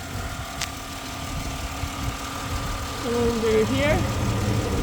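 The 4.0 engine of a 2010 Ford Explorer idles steadily under the hood, a low, even hum close by, while someone talks briefly over it.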